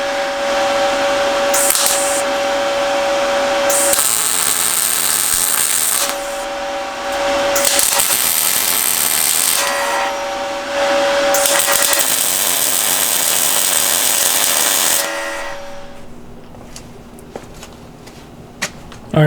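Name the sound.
tack welding a spare tire hitch basket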